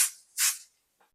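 Spray adhesive hisses onto felt backing for an in-the-hoop embroidered pencil bag tag: two short, close bursts, then a faint brief puff.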